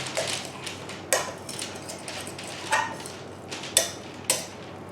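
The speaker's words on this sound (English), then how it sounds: "So I am just going to give that one more stir" Spoon stirring a melted fathead pizza dough mixture in a bowl, giving a few sharp clinks against the bowl at irregular intervals over a soft, continuous scraping, close and fairly quiet.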